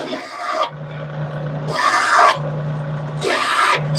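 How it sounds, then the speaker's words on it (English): Custom knife parts being chamfered by hand with a file, giving three bursts of close, loud rasping strokes separated by brief pauses, with a steady low hum running underneath. "So now we're just going to chamfer them real quick."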